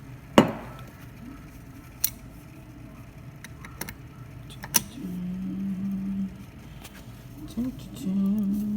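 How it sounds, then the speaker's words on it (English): Sharp metallic clinks sound several times as a portafilter is fitted into a rusted La Pavoni lever espresso machine, followed by a low, steady hum with faint rattles in between. "now we'll put in the portafilter"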